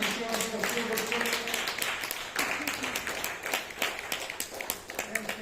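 Audience applause at the end of a talk, a steady patter of many clapping hands at moderate volume with a voice speaking over it.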